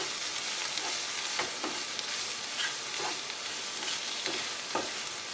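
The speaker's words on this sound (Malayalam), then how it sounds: "പൊടികളുടെ പച്ചമണം മാറുന്നത് വരെ വഴറ്റാം." Chilli powder and spice powders sizzle and are stirred in a pan with onion for Kerala egg masala, a steady close frying hiss broken by regular scraping strokes of a spoon.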